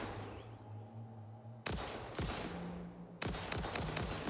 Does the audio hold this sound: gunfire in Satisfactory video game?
yes